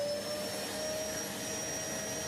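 Steady vacuum-style pickup whoosh from the handheld collector in Satisfactory, a continuous loud broadband hiss with a thin whine running throughout, no voices.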